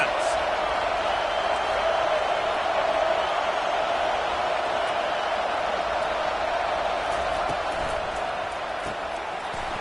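A football stadium crowd roars steadily behind the defense late in the game, a dense, sustained wall of cheering that stays loud throughout with only slight swells.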